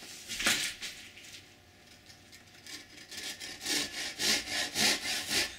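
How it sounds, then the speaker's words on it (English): A hand saw cutting a pine board, starting with a few tentative scrapes and then settling into steady rhythmic back-and-forth strokes, close and clear, with no talking. "I like to start and saw on a bit of an angle"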